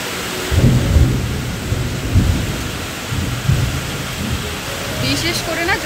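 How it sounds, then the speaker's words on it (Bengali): A torrential downpour hammers down as seen from a high-rise flat balcony, with repeated low rumbles of thunder rolling through the steady roar of rain, and a brief sharper clatter near the end. "এত জোরে বৃষ্টি হচ্ছে, মানে প্রচুর বৃষ্টি হচ্ছে, মুষলধারে একদম"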